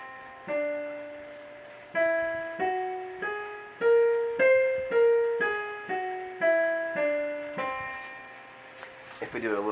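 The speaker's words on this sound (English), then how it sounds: "The next scale we'll look at is called the whole tone scale" A whole tone scale starting on C is played as clear single struck notes, each ringing and fading, climbing step by step and then descending, with a short clattering noise at the end.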